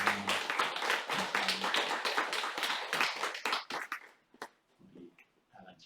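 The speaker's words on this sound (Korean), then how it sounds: "박수" Church congregation in a Korean service gives a round of applause, crisp near clapping that thins out and stops partway, then scattered taps and quiet room sounds.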